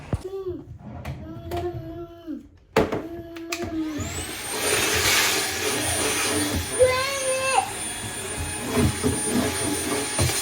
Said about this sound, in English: I'm going to get in here and vacuum this out.